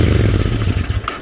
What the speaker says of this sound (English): you see this beautiful exhaust note, and it's only because of the 270-degree firing order